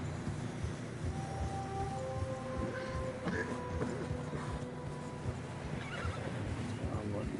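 In the video game Red Dead Redemption 2, a horse whinnies over a continuous rumbling background, with faint clopping and some voices mixed in.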